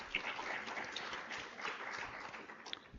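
A seminar audience gives a speaker a round of applause, dense even clapping at moderate level throughout with no speech over it.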